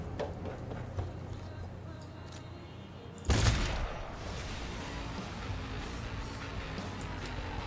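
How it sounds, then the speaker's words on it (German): A single loud gunshot rings out in Cyberpunk 2077 gameplay, a sharp burst standing out against steady game ambience and faint ticking sounds. "wir ballern den jetzt ab"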